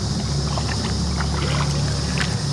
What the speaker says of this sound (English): I think this is the easiest kayaking we've done